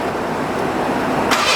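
A 1987 Ford Ranger's engine catches and settles into a steady, close, broadband running roar with no voices over it.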